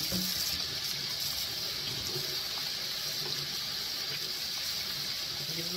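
Hands are washed under a running kitchen sink tap, giving a steady, even hiss of flowing water that continues unbroken throughout.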